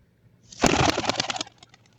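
A short burst of racing pigeons flapping and fluttering wings close by during a single toss release, rising suddenly and fading within a second.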